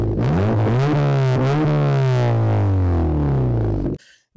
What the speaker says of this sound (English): a car with a fully blown, catless, straight pipe fart can driving right past you at 50 miles an hour